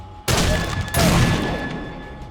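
Two heavy shotgun blasts from a survival video game, each a loud sudden burst followed by a rolling decay, the second about two thirds of a second after the first, with no talk over them.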